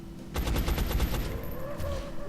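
A rapid burst of gunfire in the video game XCOM: Enemy Unknown, a string of sharp shots in quick succession that fades into a low electronic hum.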